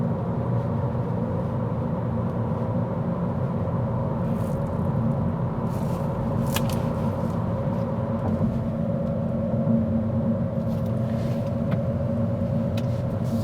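Steady low engine hum and road rumble from a 2022 Honda Civic Touring on the move, continuous and even throughout with no talking.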